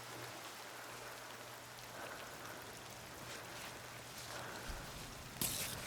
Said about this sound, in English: you know how disruptive rain can be to your climbing experience, and yeah, it definitely is here